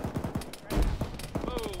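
Video game battle gunfire, a quick rapid burst of automatic shots followed by a heavier boom, moderately faint, with radio-style voices nearby.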